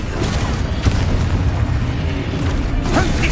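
Confringo fire spell blasting in the Hogwarts Legacy video game, a dense, loud rumbling boom that fills the whole stretch without a break.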